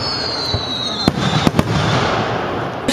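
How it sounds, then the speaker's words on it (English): July 4th fireworks exploding, several sharp bangs and crackles spread over a few seconds after a rising whistle, with a steady background wash. "At least we can have fun watching the fireworks."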